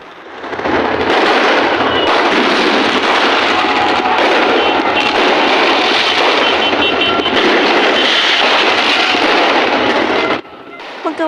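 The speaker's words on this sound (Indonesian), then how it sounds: "Keduanya saling menembakkan petasan ke arah lawan mereka." Firecrackers fired back and forth by brawling street gangs at Kampung Gembrong, East Jakarta, make a dense, loud, sustained crackle of rapid bangs and bursts that rolls on for about ten seconds before cutting off abruptly.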